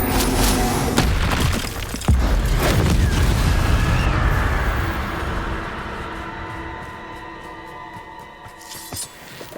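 A burst of spell effects in Hogwarts Legacy as Expelliarmus is cast, with sharp booming impacts and crackling, shattering bursts that fade into a lingering tonal hum.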